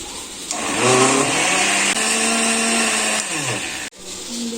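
An electric blender grinds spinach with green chilies, a loud steady whirring motor that rises, holds for several seconds, briefly dips, then cuts off and restarts.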